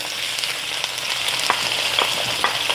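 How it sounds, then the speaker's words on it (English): Onions frying in hot oil in a pan for chili con carne, a loud, steady, close hiss of sizzling with occasional small crackles and pops. "now it looks like my oil is heated, so I can put my onions in"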